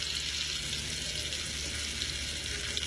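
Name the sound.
scallops frying in a pan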